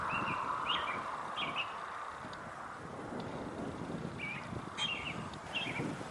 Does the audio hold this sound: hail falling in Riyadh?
no